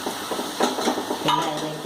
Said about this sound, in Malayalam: അതിലേക്ക് നമുക്ക് ഈ നാളികേരം മിക്സ് ചെയ്യാം.